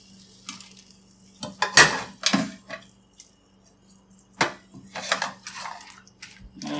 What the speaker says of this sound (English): Just drop the sauce on in there. Turn those tofu cubes.